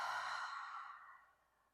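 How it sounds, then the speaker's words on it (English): A deep exhale through the mouth at the close of a yin yoga practice, one long, soft breath that fades steadily to quiet. "Nice big exhale through the mouth."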